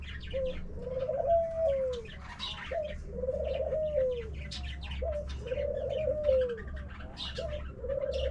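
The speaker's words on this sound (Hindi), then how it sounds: "ये मेल है जी, रेसर पिजन का।" Male racing pigeon cooing in repeated rising-and-falling phrases, about four calls over several seconds, close and clear over a steady low background hum.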